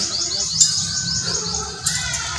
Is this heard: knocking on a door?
no